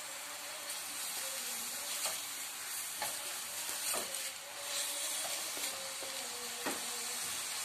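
Food wilting gently in oil in a frying pan on a gas stove, a steady hissing sizzle with regular soft scraping stirs of a utensil against the pan, close and continuous.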